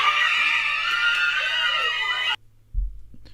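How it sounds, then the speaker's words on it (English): A woman's high, sustained screech for about two seconds, loud and harsh, cutting off abruptly, followed by a brief low thump. "That screeching noise, women got to stop doing that."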